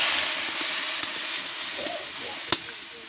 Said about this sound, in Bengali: তো এখন আমি জল দিয়ে দেবো।